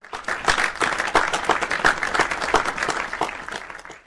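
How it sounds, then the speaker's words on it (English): Applause from a group, a dense run of clapping that continues steadily for about four seconds at moderate loudness with no talking over it. "And they all applauded."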